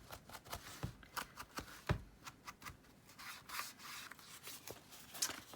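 Paper envelope flap being folded and rubbed down by hand to pick up ink, a run of soft dry scrapes and brushing strokes with a few sharper taps, close and quiet, no voices.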